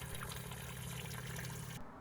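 Spring water at the Chalice Well in Glastonbury trickles over red-stained rocks in a close, steady babble that runs continuously before cutting off near the end.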